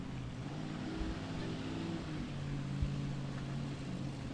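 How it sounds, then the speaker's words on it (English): Supercharged small block Chevy drag racing engine in a 1930 Ford Model A at a dragstrip, a steady loud rumbling drone with a low idle-like hum throughout, slightly distant and continuous without clear revving. "it's a small block Chevy, but yeah, it's pumping a bunch of air into it with that supercharger on top."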